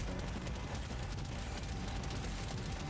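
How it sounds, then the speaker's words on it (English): Dense, continuous rapid gunfire from deployed turrets in a video game, a loud unbroken fusillade of overlapping shots filling the whole stretch without speech. "Drop some turrets down."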